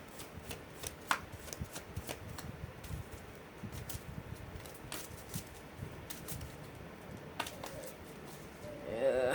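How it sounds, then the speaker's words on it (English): Playing cards are shuffled repeatedly up close, with riffling flutters and soft taps, fairly quiet, with faint background noise. "I'm shuffling the cards."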